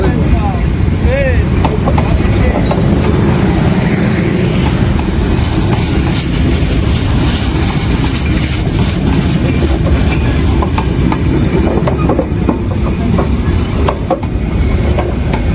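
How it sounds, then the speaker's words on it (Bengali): A very long train moving slowly near a station rumbles past close by with loud, continuous rolling and clattering wheels on the rails, voices faintly audible underneath. "বিশাল বড় ট্রেন।"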